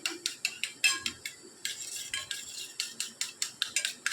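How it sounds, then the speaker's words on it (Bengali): Sour yogurt is whisked briskly in a pan, the utensil clicking against the metal in quick, steady strokes, close and clear with no talking. "টক দইটা আমরা একটু ভালো করে নেড়ে নেব, ফেটিয়ে নেব"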